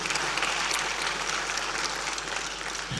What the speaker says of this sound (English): Let's clap for this young lady.